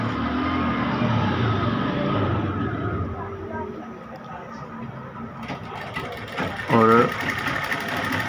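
Sewing machine stitching and reinforcing the seam of a baby suit, a steady mechanical whirr running through most of the stretch, with a person speaking over it.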